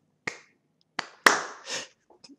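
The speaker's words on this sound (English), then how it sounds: "I can clap my hands." Several sharp hand claps or snaps ring out alone, spaced irregularly: one, a second about a beat later, then a louder third followed by a softer trailing burst and faint small taps.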